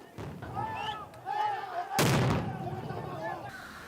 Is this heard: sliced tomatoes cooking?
no